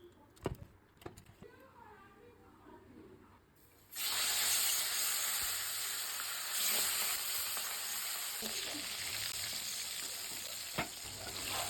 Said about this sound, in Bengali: কড়াই তেল গরম হলে মাছগুলো একে একে ভেজে নেব